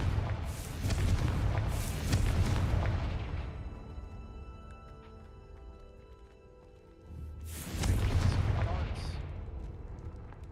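Confringo spell blasts from Hogwarts Legacy go off in two heavy, booming explosions with rumbling tails, separated by a quieter lull. Each one bursts loudly and close.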